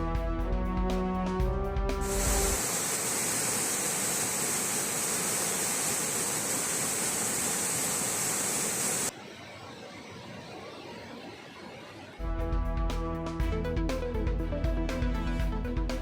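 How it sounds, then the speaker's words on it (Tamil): Kumbakkarai waterfall gives a dense, steady roar of rushing water for several seconds. The roar then drops to a softer wash, and music plays before and after it. "கும்பக்கரை அருவிக்கு நீர்வரத்து சீரானதால் சுற்றுலா பயணிகள் குளிக்க அனுமதி"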